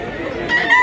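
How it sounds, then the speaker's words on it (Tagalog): Roosters in Mantalungon, Barili, Cebu give a brief crowing call that rises near the end over a low murmur of background sound. "Daghan pag manok mga idol."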